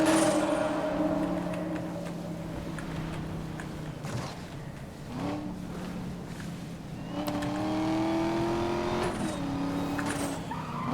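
Car engine revving with tires spinning and squealing in Need for Speed: Most Wanted (2012), a loud continuous roar with rising pitch sweeps as the wheels lose grip, no voices.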